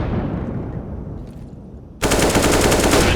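Rapid automatic Galil rifle fire in a Counter-Strike esports match, a loud sustained burst erupting after two seconds of fading rumble and continuing steadily to the end.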